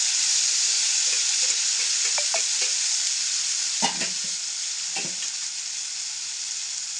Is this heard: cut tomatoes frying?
yes